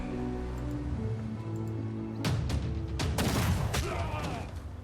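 Tank range attack in Civilization VI: a low droning hum gives way to several loud, sharp cannon blasts and crackling gunfire bursts, clustered close together over the last few seconds.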